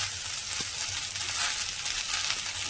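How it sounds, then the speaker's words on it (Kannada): Mint leaves roasting in a pan for chutney, a steady soft sizzle with faint stirring scrapes throughout, fairly close and without any talk. "ಇವಾಗ ಪುದೀನ ಹಾಕ್ತಾ ಇದ್ದಾರೆ."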